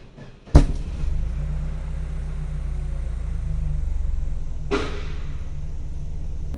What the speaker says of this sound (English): There is a bang in the exhaust pipe and some other noise makes itself felt.